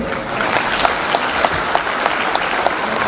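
An audience at a school anniversary celebration claps steadily for about three seconds, a dense patter of hands with a few sharper claps standing out.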